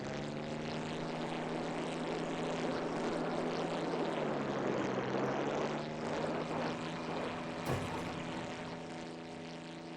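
A propeller airplane comes in to land, its steady engine drone and harmonic hum filling the cabin loudly and continuously, with a brief bump partway through and no talking.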